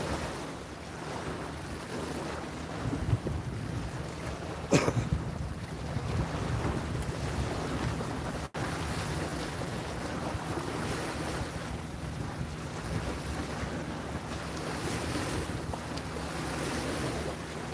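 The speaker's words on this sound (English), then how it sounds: "I know where these big high waves come from." Big waves wash and lap on a lake shore in steady, continuous surges under strong wind buffeting the microphone, with no voices.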